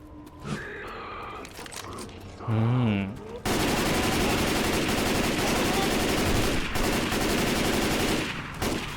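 An M16 rifle fires in Left 4 Dead 2, with long, loud sustained automatic bursts that start after a few seconds of other game noises.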